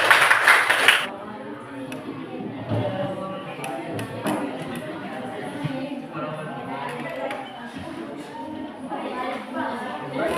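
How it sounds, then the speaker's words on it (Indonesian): Children clapping their hands together in a school classroom: a short, dense burst of claps at the start, followed by an adult voice talking over light room chatter and faint taps. "Tepuk tangan kita semua."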